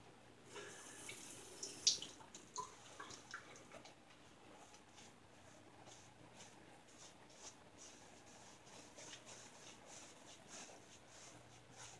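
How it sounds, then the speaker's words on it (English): A short splash of a little water poured into a container while preparing a straight razor head shave, then a faint trickle fading into quiet background hiss. "I'm going to add just a little bit of water."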